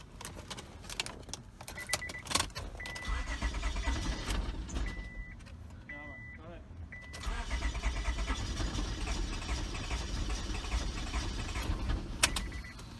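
A used Honda Accord with a suspected knocking engine cranks and catches, then runs with a steady rough rumble close by, a brief lull in the middle before it settles back into a continuous idle.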